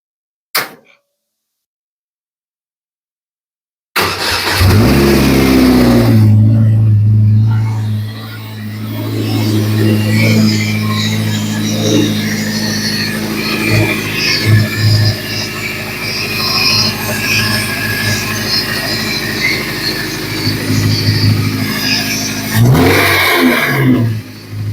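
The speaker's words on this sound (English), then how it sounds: "I'll let you hear the carnage from the motor." Battered, damaged old car engine idling roughly and revving after a sudden start, loud and continuous with clanking metallic noises and uneven surges, a few brief mechanical knocks near the end.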